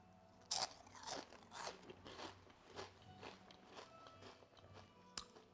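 Crisp croutons from a tomato and peach gazpacho are bitten and chewed close to the ear, with a sharp initial crunch followed by a run of crackling chews and a final crisp snap, and no talking.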